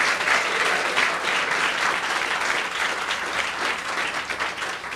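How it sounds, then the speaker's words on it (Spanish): Church congregation applauding during a sermon, a full, steady wash of clapping that holds level for several seconds and tapers slightly at the end, with no talking. "¿Cuántos dan un fuerte aplauso al verbo de Dios?"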